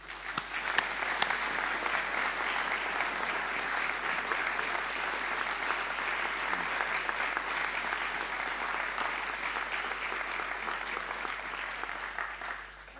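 A school speech-day audience applauds the staff, a broad, sustained roar of clapping that holds steady for over ten seconds with a few sharper claps near the start before easing off at the end.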